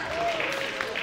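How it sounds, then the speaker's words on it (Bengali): Audience applause at a live singing performance during a Durga Puja celebration, a brief patter of clapping heard under a sustained sung or spoken tone. "আরেকবার হাততালি হয়ে যাক"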